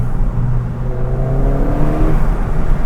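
A Ford Fiesta ST engine with an induction kit, heard from inside the moving car with the windows down, gives a steady loud drone that rises in pitch as it accelerates, over road rumble.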